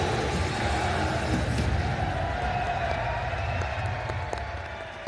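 A crowd applauds at the inauguration of an e-commerce portal in Pakistan, a dense, continuous wash of clapping that holds steady and then gradually tapers off.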